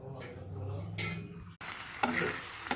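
Ghee and sugar stirred in a pan, with scraping and clinks of a spoon against metal in short bursts over a soft sizzle.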